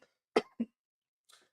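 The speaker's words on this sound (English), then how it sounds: "Here's our cough." A single person's cough, a sharp double burst followed by a faint trailing breath, close and alone in an otherwise quiet room.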